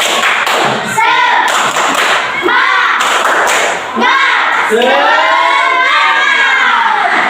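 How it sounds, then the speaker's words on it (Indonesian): A classroom of children performing a rhythmic spirit clapping chant, loud shouted voices in patterned bursts over claps and thumps, close and energetic. "akan kita akan tepuk semangat ya, tepuk semangat"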